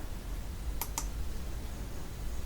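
Two quick computer keyboard presses for a Photoshop shortcut, close together and crisp over a steady background hiss, with no talking.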